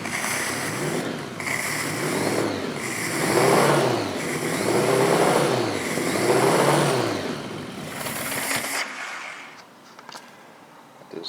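A Honda Goldwing GL1100A motorcycle engine fitted with a single carburetor conversion revs repeatedly with the throttle, rising and falling in a rough cyclic pattern, close and loud, then cuts off abruptly near the end.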